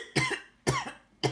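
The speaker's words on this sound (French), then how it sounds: "Excusez-moi pour la toux, ça me reprend de temps en temps" Three sharp, loud coughs in a row from a single adult, evenly spaced and close up, with no talk between them.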